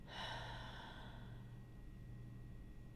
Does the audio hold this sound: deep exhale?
yes